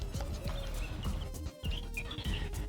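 Small birds chirp and tweet in short, scattered calls against a soft, constant outdoor hum of wind, traffic and children playing in the distance.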